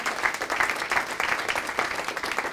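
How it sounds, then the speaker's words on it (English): Audience at a community meeting on youth vaping gives a modest round of applause, scattered overlapping claps at moderate distance, fairly even for a couple of seconds. "I'd like to give a round of applause for your Board of Health"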